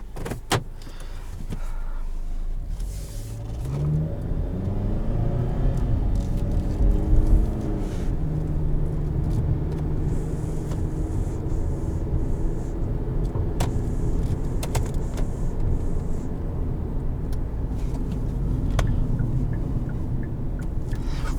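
A 2018 Hyundai Santa Fe Sport cruising on the road, with a steady low engine and road hum, some rising engine tone early on, and a few faint interior clicks and rattles.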